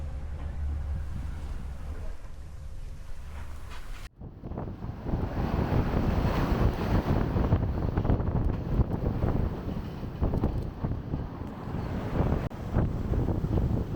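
Roaring gale of about 50 knots with building seas, heard from a sailboat crossing the Drake Passage near Cape Horn; a low steady rumble gives way after a sharp break to loud, dense wind buffeting and crashing wave noise that continues throughout.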